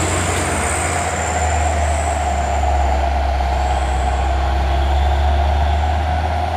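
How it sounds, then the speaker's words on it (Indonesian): Heavy tanker trucks, including a Hino, rumble past with a steady low engine drone and a hiss of air brakes, loud and continuous, with no voices. "ini 2 unit truk tangki lagi"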